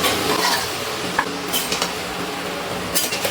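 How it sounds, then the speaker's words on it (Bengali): Chicken coated in yogurt being stirred in a pan on an induction cooktop, a soft steady scraping and low sizzle with a few light clinks of the utensil against the pan, no voices. "ভালো করে নাড়াচাড়া করে নিচ্ছি।"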